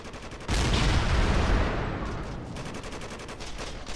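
Rifle fire in the Battlefield Iraq video game, with a loud burst of gunfire that hits suddenly and then rattles on in a steady rapid series of shots under a dense background roar.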